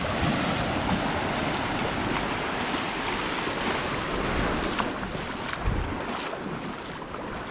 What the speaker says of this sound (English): you can see that the waves are breaking and heading down that direction over there